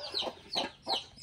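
A hen on a small rural farm clucking in three or four short, rhythmic bursts, close and clear with no talk over it.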